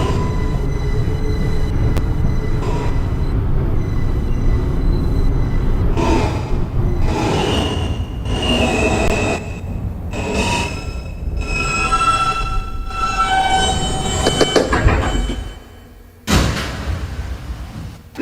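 Riding an R160 car on the Queens-bound N local, a heavy rolling rumble carries rhythmic rail clatter and rising, squealing wheel whines, dipping briefly before a loud surge near the end.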